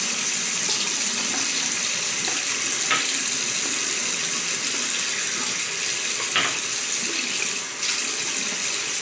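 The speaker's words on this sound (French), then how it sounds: "je me mouille la face" Tap water runs steadily and close for the whole stretch, with splashes and brief shifts as hands wet a face at a bathroom sink before a traditional shave.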